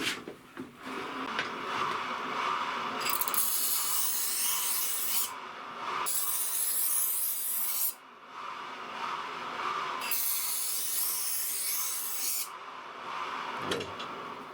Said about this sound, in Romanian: Îi dai la manivele să se învârte.